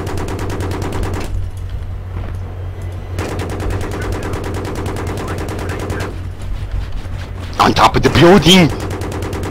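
Gunfire in the video game Battlefield 3, bursts of automatic weapon fire and sharp shots running under excited voices calling out, with a heavier loud blast of shooting near the end.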